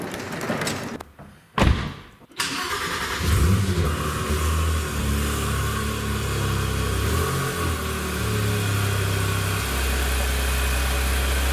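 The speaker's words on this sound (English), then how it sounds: "I'm doing a great morning drive, a Sunday morning" Porsche sports car engine on an early Sunday morning drive, a few thumps and a door slam at first, then a steady mid-pitched engine hum that rises and settles into a continuous drone, close and prominent.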